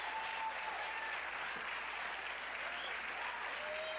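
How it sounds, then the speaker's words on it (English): Studio audience at a late-night talk show applauding steadily, a dense, sustained wash of clapping and cheering that holds at an even level throughout with no speech on top. "The crowd goes crazy."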